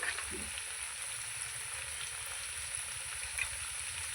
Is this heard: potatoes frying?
yes